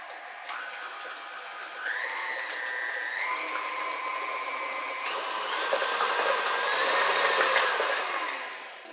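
Electric mixer whirring as milk is mixed into vanilla cake batter for a raspberry buttercream cake, a steady motor whine that shifts pitch in steps and grows slightly louder before winding down at the end.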